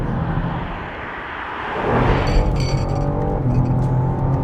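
BMW M3 Touring driven hard in rear-wheel drive with aids off on a greasy cross-country road, engine note swelling as it accelerates past with steady tyre and road roar, no talk.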